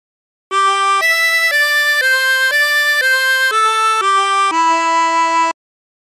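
A harmonica plays the opening phrase of My Bonnie Lies Over the Ocean, a clear solo melody of about nine sustained, close notes with no talk.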